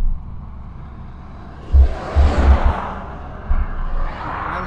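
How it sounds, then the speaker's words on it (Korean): Road traffic on a highway near a city as vehicles pass close by a cyclist, with loud whooshes and rumbling that swell and fade as each one goes by, under steady wind noise. "도시가 가까워져서 그런지 교통량들이 많아 지금"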